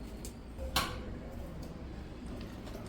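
A metal spoon stirs Kerala-style sadya rasam in a pot just after asafoetida goes in, with one clear clink against the pot followed by a few faint ticks and scrapes, close and quiet.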